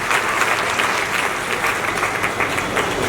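A large audience at a network-marketing company event gives loud, continuous applause for the company's CMD and MD, a thick, close wall of clapping running from start to finish.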